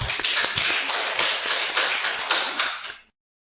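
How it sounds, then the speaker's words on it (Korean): A church congregation at a Seoul worship service claps together in a steady burst of applause that stops abruptly after about three seconds. "박수 한번 주십시오, 진짜."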